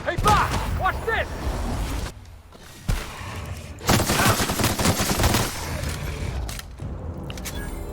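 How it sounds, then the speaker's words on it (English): Bursts of gunfire in The Outer Worlds video game are loud and close, with rapid volleys and heavy thumps broken by short quiet gaps, while a voice talks over part of it. "let's just gun you down"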